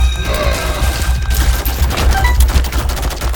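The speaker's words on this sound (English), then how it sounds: "Bumble, you can just keep firing your shield like that" Rapid bursts of enemy fire crackle in The Binding of Isaac: Afterbirth, a dense, loud, continuous fusillade of shots and impacts with no talking.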